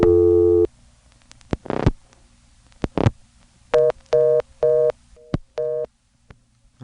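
On a 1977 telephone line, dialing produces mechanical clunks and short clicks, then a fast reorder tone pulses in repeated even bursts, loud and close with no speech.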